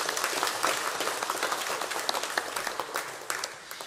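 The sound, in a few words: church congregation applauding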